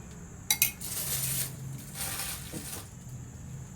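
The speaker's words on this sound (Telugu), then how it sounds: "ఇప్పుడు స్టవ్ మీద గిన్నె పెట్టుకొని గిన్నె వేడైన తర్వాత అందులో ఒక one and half table spoon నెయ్యి వేసుకోవాలి" A metal pot is set down on a kitchen stove with two sharp clanks, followed by a brief scraping shuffle and a low, steady background hum while making carrot halwa.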